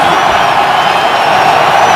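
Massive crowd at Gillette Stadium during a Browns versus Patriots football game, roaring and cheering in a loud, unbroken wall of noise with scattered whoops.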